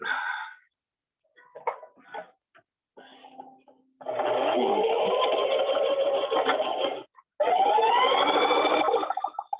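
A domestic sewing machine stitches fabric for a LARP hood. Short stop-start bursts come first, then two long, steady runs of loud, whirring motor hum with clicking needle strokes, broken by a brief pause.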